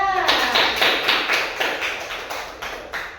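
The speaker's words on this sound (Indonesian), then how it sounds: "Tepuk tangan untuk kelompok 3." A small classroom group of teachers in training claps for group 3 after their presentation, a short run of close, fairly rhythmic claps.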